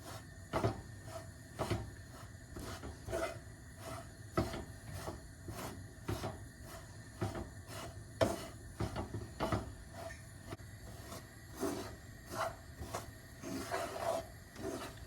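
All-purpose flour being dry-roasted in a pan for Sri Lankan appam, with a quiet, steady series of dry scraping strokes as a spatula works the flour back and forth, close and repetitive.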